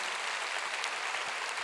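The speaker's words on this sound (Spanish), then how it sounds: "Dale fuerte ese aplauso al Señor." Church congregation applauding together during a Spanish-language sermon, a steady broadband patter of many hands at fairly low level, sustained evenly throughout with no voices breaking through.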